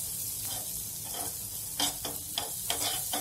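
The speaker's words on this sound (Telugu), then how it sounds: "ఇది స్టవ్ మీద పెట్టుకొని కొద్దిగా బటర్ ని వేసుకోవాలి" Butter melting and sizzling in a sandwich maker set on a stovetop, a soft, steady hiss broken by a few short scraping bursts; close and fairly quiet, no voices.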